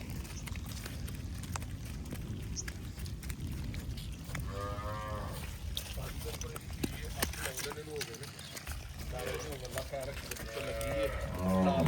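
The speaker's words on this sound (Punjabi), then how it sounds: "ਚੀਨੇ ਰੰਗ ਦੀ ਗਾਂ ਹੈ ਚੋਲਸਤਾਨੀ ਫਰੀਜ਼ੀਅਨ ਕਰਾਸ" Cholistani-Friesian cross cattle low several times at close range, deep drawn-out moos amid a busy cattle farmyard background and people talking.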